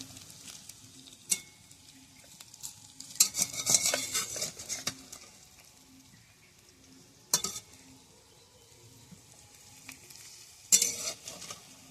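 Food fries slowly over a low flame after being flipped: a quiet, continuous sizzle broken by several bursts of utensil scraping and clinking against the pan.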